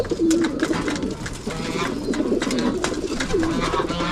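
Pigeons coo repeatedly close by in a loft, soft throaty calls overlapping one another against a busy background of shuffling and faint bird noise.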